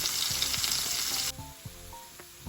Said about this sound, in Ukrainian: свіжа морковка і цибулинка. Все це я зараз теж злегка так піджарю і викладу на м'ясо.